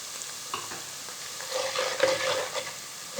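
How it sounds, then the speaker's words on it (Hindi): Crushed red chili and turmeric are stir-fried in a pan for chicken karahi, giving a soft, close sizzle with scraping stirring strokes that grow busier midway, and no one talks. "इन्हें हल्का सा हमने भूनना है।"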